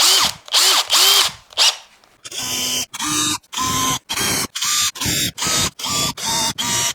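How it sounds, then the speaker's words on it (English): Power drill whirring in a rapid series of short bursts, near and loud, drilling small holes for side dot markers in guitar wood, each burst starting and stopping abruptly with brief pauses between. "I'll also drill out for me side dots while I'm at it"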